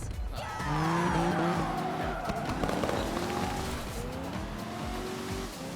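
Lamborghini Aventador racing in the arcade game Cruis'n Blast on a Madagascar course: a loud, steady engine roar with long, rising and falling tire squeals and skids, close and continuous throughout.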